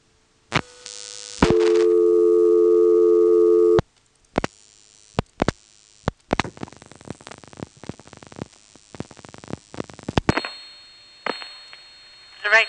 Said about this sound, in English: Notice how the carrier system sort of sings along with the voice of the directory assistance operator.